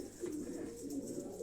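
Soft, low cooing from domestic pigeons kept at a home, a couple of gentle rolling coos close by, fairly quiet with no talk.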